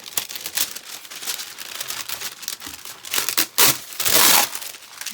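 Parchment paper being crumpled and torn during a ladybug craft project, a run of loud crinkling bursts and rips building to a harsh sustained crackle near the end, close and alone.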